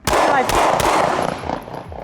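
Gunfire in a defensive shooting scenario against a knife-wielding hostage taker in a park, a quick close burst of loud sharp shots ringing out and fading.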